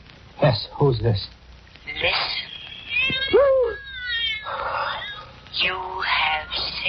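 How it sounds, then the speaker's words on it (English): Cat meowing heard over a telephone line in an old radio mystery drama, several distinct wavering meows and caterwauls with a thin, band-limited phone quality, alternating with someone speaking. "The cat's come back to the island."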